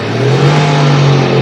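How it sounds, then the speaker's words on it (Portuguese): Electric motor in a converted 1967 VW Beetle spinning up, a loud close whine with a steady tonal hum that rises slightly in pitch as it accelerates, with no voices. "com ele agora funcionando, a gente consegue controlar a aceleração do motor"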